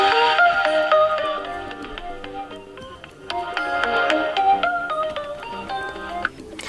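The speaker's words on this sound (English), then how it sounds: "we can adjust our ringtone volume by moving this dot on the left or the right" Ringtone on a Samsung Galaxy A01 Core phone playing a bright, melodic electronic tune in repeated phrases, loud and close, briefly cut and restarted partway through.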